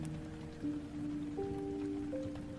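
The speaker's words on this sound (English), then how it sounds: "rain pattering against the roof in a ceaseless whisper" Rain on a roof during a steady storm, a soft continuous patter with low droning tones running underneath, no voices.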